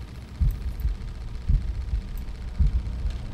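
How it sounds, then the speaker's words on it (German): In the video game The Room, a slow heartbeat sounds as low, muffled thumps in doubled pulses, repeating about once a second over a faint hum, with no voices. "Warum kommt da gerade so ein Herzschlag?"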